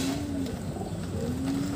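A rescued wild pigeon, very thin and underweight with dry feet, gives soft low cooing calls close by, steady and unbroken over a faint background hum with no talk.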